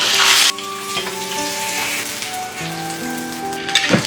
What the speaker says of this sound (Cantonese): 乾水就開始出油㗎啦，慢慢炸佢